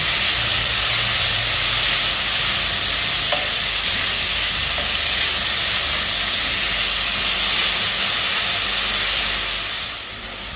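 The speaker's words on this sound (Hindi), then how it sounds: "बस इतने में ही अब हम इसमें प्याज" Chopped onions go into a hot pan of lightly browned garlic and sizzle with a steady, loud hiss throughout, fading slightly at the very end.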